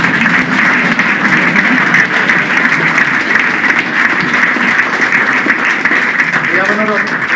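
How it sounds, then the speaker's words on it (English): Audience clapping at the Annan Athletic football club awards presentation night 2023: dense, steady applause fills the room for the whole stretch, with a voice briefly rising over it near the end. "Yes, you can clap if you want."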